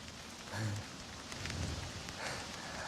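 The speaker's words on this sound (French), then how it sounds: "c'est la pluie diluvienne ici à Antibes" Torrential downpour in Antibes, a steady hiss of heavy rain pounding surfaces close by, with a few faint murmured sounds in the background.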